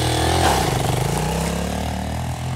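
A Motoland 250 Enduro motorcycle engine idles nearby and is given light, gentle revs, a steady mid-pitched rumble with a brief throttle blip.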